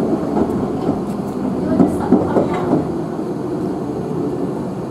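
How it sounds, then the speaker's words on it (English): A London Underground Piccadilly line train rumbles steadily nearby with a low continuous roar and faint rhythmic clatter of wheels, moderately loud throughout. "Who's that coming round the bend? It's a Piccadilly line."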